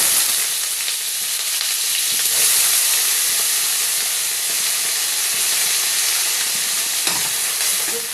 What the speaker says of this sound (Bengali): যে পেঁয়াজগুলো কেটে রেখেছিলাম, পেঁয়াজগুলো এই তেলে ভেজে নেব।